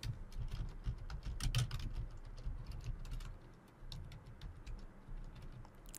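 Fingers type test card details on a computer keyboard in steady, quick bursts of close, crisp key clicks that keep going for several seconds, with a brief slowdown near the middle and no one speaking.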